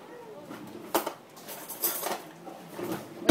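Metal spoon scraping and clinking against a pot while cream is stirred for crème brûlée in a galley kitchen, with several irregular knocks and scrapes at close range.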